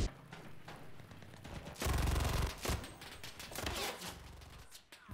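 An MG30 machine gun fires in the shooter game Enlisted, with a loud sustained burst followed by shorter rattling volleys of rapid shots.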